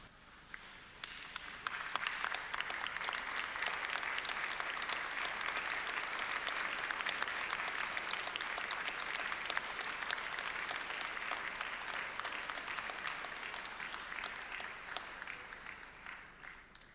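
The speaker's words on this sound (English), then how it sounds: "I now invite you to stand and turn and express your gratitude by a round of applause" A graduation ceremony audience applauds steadily in a large hall, dense sustained clapping rising quickly and holding loud for about fifteen seconds before tapering slightly at the end.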